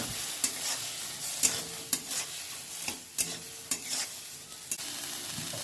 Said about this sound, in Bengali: নুন হলুদ দিয়ে এটাকে আমি একটু ভেজে নেব